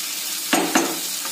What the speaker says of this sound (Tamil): நல்ல பச்சை வாசனை போக வரைக்கும் தக்காளி பழத்தை நல்லா வதக்கிட்டே இருங்க.